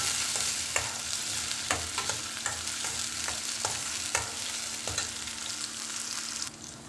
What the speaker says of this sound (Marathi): त्या टाकूया आणि याला छान परतून घेऊया